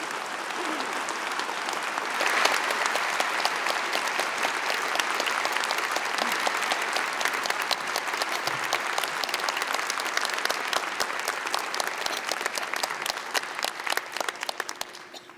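Sustained audience applause fills a university convocation hall, a dense steady wash of many hands clapping from start to finish, swelling slightly early on and thinning toward the end.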